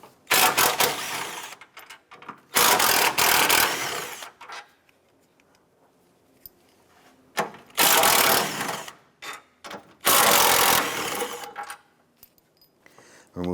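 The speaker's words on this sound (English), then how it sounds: "Using a 16mm socket, go ahead and remove these 2 bolts here and these 2 for the mount beside it." Ratchet with a 16mm socket loosening engine torque strut mount bolts on a 2006-2013 Chevrolet Impala, heard as bursts of close, rapid clicking and whirring separated by quieter pauses.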